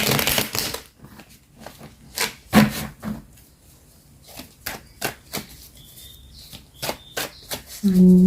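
Tarot cards are shuffled in repeated quick riffles and slaps, loud and close, with brief pauses between bursts and a faint tone near the end.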